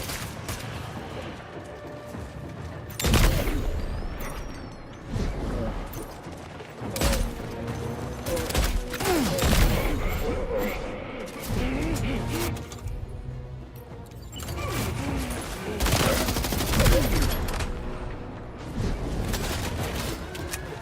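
Bursts of gunfire from the video game Death Stranding 2, sharp loud volleys and single shots scattered irregularly over a busy game soundscape, with short quieter gaps between clusters.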